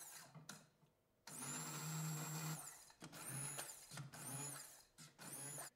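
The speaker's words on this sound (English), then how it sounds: "I always puree my fava with an immersion blender." An immersion blender purees cooked fava beans in loud, whirring bursts, one long run followed by several shorter pulses separated by brief pauses, heard close up without talk.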